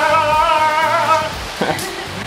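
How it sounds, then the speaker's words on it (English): Daytime rain falls in a Mexican town, a soft continuous wash under a strong tonal hum, with a brief clatter near the end. "but it's raining"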